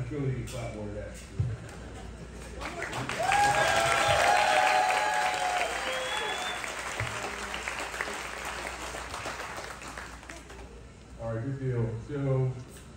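Staff applaud together in a sustained round of clapping that swells and fades over several seconds, with voices speaking briefly before and after.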